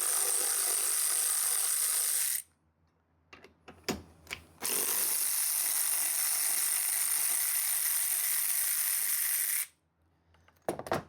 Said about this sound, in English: So you're gonna take your 50 Torx. I use my Earthquake XT. You can use any standard ratchet.